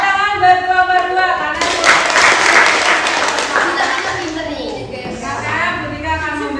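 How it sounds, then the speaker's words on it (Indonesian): Primary school pupils in a classroom burst into clapping for a student group, a loud swell of applause in the middle, with a teacher speaking over the start and end. "Tepuk tangan buat kelompok 2"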